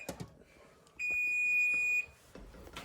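A kitchen timer beeps while a 21-year-old 1999 box of Kraft macaroni and cheese cooks. The beep is a single loud, steady, high electronic tone lasting about one second, with quieter kitchen noise before and after it.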